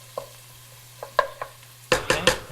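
Garlic cooking briefly in a pot for tomato soup, with a spoon clinking and scraping against the pot in scattered strokes, then three louder knocks over a light sizzle.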